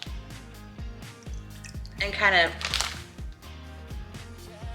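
Raw fish is shaken to drip off water before seasoning, giving soft, rhythmic drips and splatters with a brief wetter burst midway, heard under a person talking.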